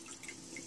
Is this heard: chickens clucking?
no